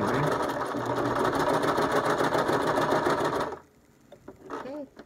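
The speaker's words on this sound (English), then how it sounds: "I finished sewing the rough part and I anchored it down in the middle." A sewing machine stitches a bandana baby bib, a loud, steady close-up mechanical whir for about three and a half seconds, then stops and a voice speaks.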